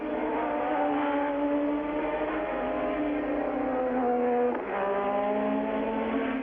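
Formula One race cars from 1987 roar downhill from La Source into Eau Rouge at the Belgian Grand Prix at Spa, a sustained, loud engine wail with gear-change dips under broadcast sound.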